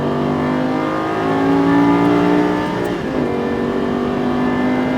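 A Lamborghini Gallardo LP560-4 engine roars at full throttle on a drive, loud and sustained from inside the car, the pitch climbing steadily with a brief dip near the end.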